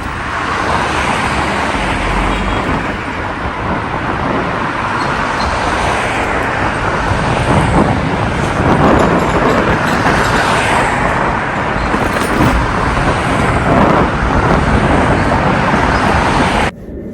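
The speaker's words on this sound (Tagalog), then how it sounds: "Ito yung motor ko." A motorcycle rides through road traffic around Shanghai, a steady broadband roar of engine and wind that holds loud and continuous with passing vehicles mixed in, then cuts off at the very end.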